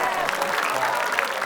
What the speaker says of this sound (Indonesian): Usahanya kita kasih tepuk tangan.